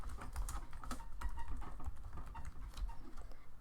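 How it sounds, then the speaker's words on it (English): A computer keyboard being typed on to enter a name during an operating system setup, with quick, close, fairly quiet key taps in an uneven rhythm over a steady low background hum. "and I'm going to type in my name."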